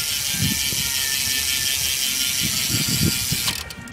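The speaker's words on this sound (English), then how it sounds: "this is my 2012 Verde Radia, and this is on the hub sound." The rear hub of a 2012 Verde Radia BMX bike ratchets with a continuous fast, buzzing clicking as the wheel freewheels, close and steady, tapering off at the end.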